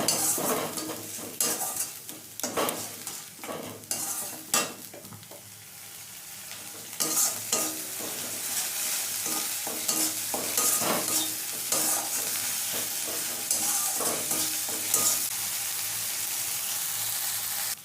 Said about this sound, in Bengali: সামান্য একটু হলুদ গুঁড়ো দিয়ে দিলাম এবার মশলাটা ভালো করে কষিয়ে নেব